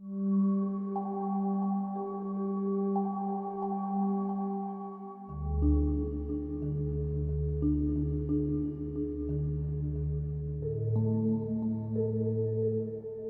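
Sustained meditative drone of layered tones with ringing singing bowls, chords shifting slowly and resonant tones lingering; no voices.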